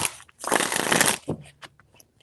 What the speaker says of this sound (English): 3 shuffles